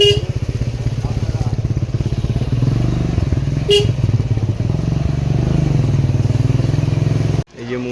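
A motorcycle carries riders to school with a loud, close engine putter whose rhythm stays steady, briefly lifting with a short horn-like tone, and voices are heard over the ride.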